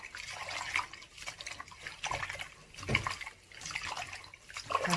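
Food ingredients being rinsed and swished in water by hand during cooking prep, with continuous splashing and trickling that rises and falls in bursts, close and moderately loud, with no talking.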